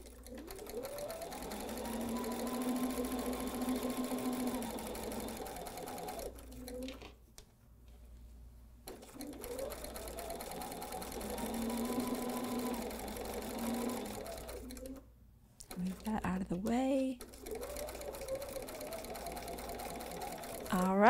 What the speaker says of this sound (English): Let's see if I can take two stitches forward and two stitches back this time like I planned last time.